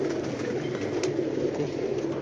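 Pigeons coo on a rooftop in Sialkot, a close, steady, low murmur of cooing that runs continuously with no voices.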